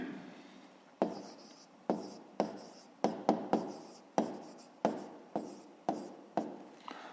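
Handwriting a math answer for a fifth-grade exercise, with a series of about a dozen short, close scratchy strokes on paper in an uneven rhythm, each a quick attack that fades, no voice.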